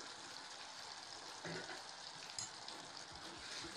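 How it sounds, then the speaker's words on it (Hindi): Onion, ginger and garlic fry in a pan while being stirred for rajma, giving a faint, steady sizzle with a few soft scraping clinks. "प्याज को लगातार चलाते हुए अच्छी तरह से भून लिए हैं"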